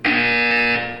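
Buzzer in the Portal 2 video game: a single loud, steady electronic tone that holds for about a second, then cuts off.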